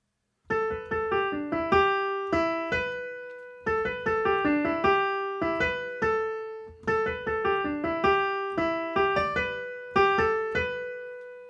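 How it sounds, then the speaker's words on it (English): Solo piano plays the intro of a song, a repeating melodic phrase over sustained chords, clear and close with brief pauses between phrases and no voices. "So the first thing you need to learn is this little intro section that sounds like this."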